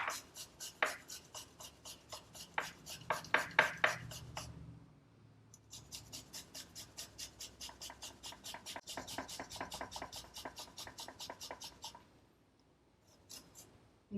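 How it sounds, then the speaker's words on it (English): An onion is grated over a bowl of butter, a quick run of close, dry rhythmic scraping strokes with a short pause partway, then steady rasping that dies away at the end. "I'm just going to go ahead and grate this right over the bowl so I get that juice from the onion right into the butter"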